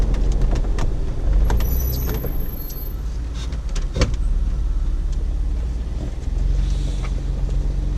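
A jeep crawls off-road in first gear, giving a steady low engine rumble with bumps and wind buffeting against the microphone.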